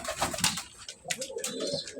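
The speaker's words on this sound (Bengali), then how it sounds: "এই যে কালো সাদা বেশি গোল্লা কবুতর, আমার বাচ্চা উঠেছে" Pigeons coo at close range, including a black-and-white pigeon with newly hatched chicks, with low throaty calls repeating through the stretch alongside some rustling.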